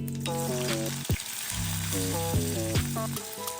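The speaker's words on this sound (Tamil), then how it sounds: "இப்போ நான் தாளிக்க ஆரம்பிச்சிடுறேன்." Spices sizzle and crackle in hot oil, a steady frying hiss with melodic background music playing over it.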